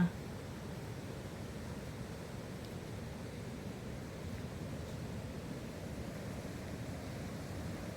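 Water rushes over a weir across the Wang River at Ko Kha in Lampang, Thailand, a steady, even, moderately quiet roar with no voices.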